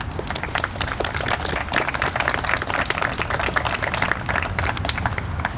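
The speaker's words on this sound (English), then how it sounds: "Could you please join me in thanking all of them with a round of applause?" Audience applause at a presidential site dedication ceremony, a steady dense wash of many hands clapping throughout, fairly close and sustained without talk.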